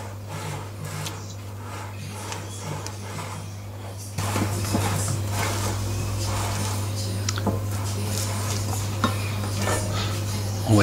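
Close scraping and soft clinks of a utensil mixing fraisier cake batter in a bowl, continuous and busy, over a steady low electrical hum that steps up partway through.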